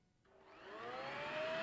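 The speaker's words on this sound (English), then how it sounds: "Vacuum cleaner." A vacuum cleaner starts up in a Family Guy cartoon scene, its whine rising steadily in pitch and loudness as the motor spins up, close and without talk.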